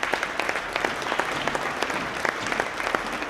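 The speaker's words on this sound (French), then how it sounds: "Merci, on peut les applaudir." Sustained applause from an audience at a university meeting, a steady wash of many hands clapping with sharper individual claps poking through, even and unbroken throughout.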